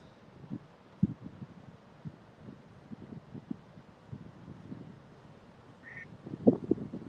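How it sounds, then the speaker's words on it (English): A duck quacks in short, scattered calls near a river in low water, soft and intermittent against wind and outdoor background noise, with a louder cluster of quacks toward the end. "Oh, little duck."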